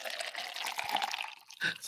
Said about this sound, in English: I need to do a second half pour.